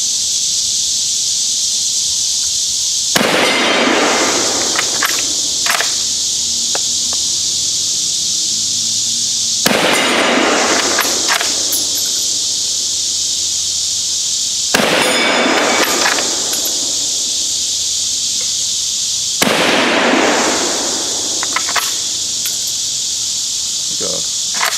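Four sharp, loud rifle shots from a VZ24 Mauser chambered in 8mm, fired outdoors at spaced intervals of about five to six seconds, each with a ringing tail under a constant high insect drone.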